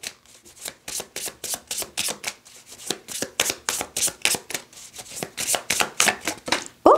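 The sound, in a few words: tarot cards being shuffled and drawn from a deck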